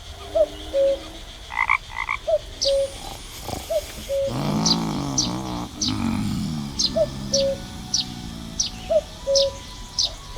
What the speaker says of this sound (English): Maybe the clicker frog will appeal to it more than my voice.